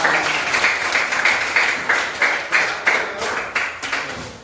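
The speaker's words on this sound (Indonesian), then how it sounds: "Ya, tepuk tangan." A classroom of sixth-grade students in a Christian religion lesson claps together, the applause swelling at first and then settling into a series of rhythmic, evenly spaced group claps.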